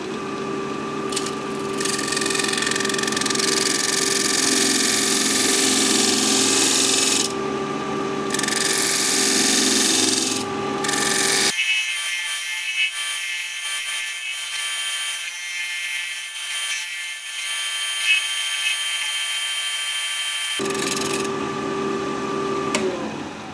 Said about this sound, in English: I'm just going to make some cleaning cuts, just try and smooth this out a little bit and sand it